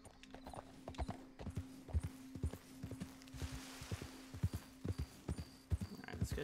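Horse hooves clip-clop at a steady walking pace in the video game Red Dead Redemption 2, with crisp, evenly spaced beats over a low constant hum, no talking.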